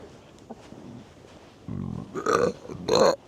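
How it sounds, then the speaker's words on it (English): A burp at a snowy Minnesota winter base camp, loud and close, with two throaty bursts near the end after a duller low rumble. "ASMR burp right there."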